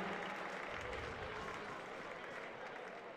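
An audience at a men's college basketball game applauds the two finalists and the cadets, a steady, fairly faint wash of clapping and crowd noise that holds throughout.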